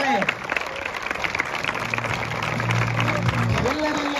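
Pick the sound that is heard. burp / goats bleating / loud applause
loud applause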